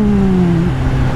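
Triumph Trident 660 motorcycle accelerating with a quickshifter, a steady loud engine drone whose pitch climbs and then drops sharply near the end as it shifts up, close and continuous with no talk.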